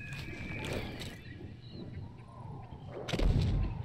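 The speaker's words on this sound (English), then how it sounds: "It's a grenade." A grenade explodes in the video game Journey to the Savage Planet: a sudden booming burst near the end, with a deep rumble that lingers over a busy game soundscape.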